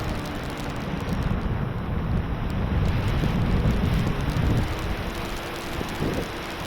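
Strong outdoor wind buffets a microphone at an RC plane flying field, giving a continuous loud, rumbling roar with gusty surges and no talking.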